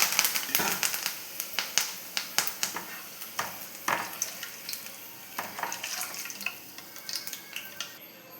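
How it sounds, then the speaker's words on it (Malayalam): Curry leaves frying in hot sesame oil, crackling and popping in quick, irregular bursts that gradually thin out. "നമുക്ക് ആദ്യം കുറച്ച് കറിവേപ്പില ഇട്ടൊന്ന് വറുത്തെടുക്കാം"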